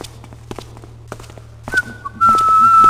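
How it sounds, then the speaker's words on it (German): Whistling in the stealth game Thief Gold, a thin sustained tone entering midway and holding to the end over quiet footsteps and soft thuds, with the background growing louder in the final second. "Das Pfeifen wird irgendwie weniger"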